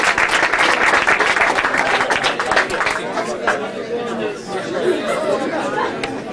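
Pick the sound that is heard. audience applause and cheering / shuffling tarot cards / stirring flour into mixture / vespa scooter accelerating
audience applause and cheering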